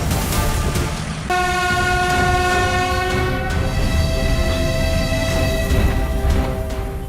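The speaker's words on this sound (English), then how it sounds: "This Russian EP-20 electric locomotive, known as Olymp, looks like it derailed and caused serious damage." A Russian EP-20 electric locomotive sounds a loud, sustained multi-tone horn that holds steady for several seconds over rumbling rail noise.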